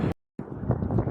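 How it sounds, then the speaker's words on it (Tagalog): Strong wind buffets an outdoor microphone on a family outing just after rain, a rough, steady low roar with a brief dropout near the start. "Ang lakas nga pala ng hangin yan."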